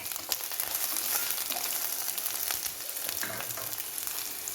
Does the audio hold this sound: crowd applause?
no